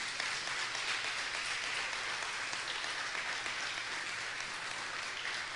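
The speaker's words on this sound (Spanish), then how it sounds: "Dele un aplauso al Señor." Steady, dense applause from a church congregation during a sermon, filling the whole stretch at an even level with no voice standing out.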